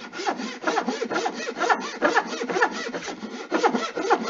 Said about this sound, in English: the saw is a very fine saw in comparison to the Western saw, I can still use the bench hook like this